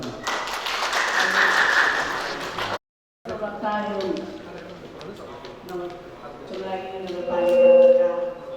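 Audience applause at a CCTV inauguration and handover ceremony for Chandragiri Municipality, covering road-mounted cameras on the Kalanki–Naagdhunga stretch. A dense burst of clapping lasts under three seconds, cuts off abruptly, then someone speaks over the room.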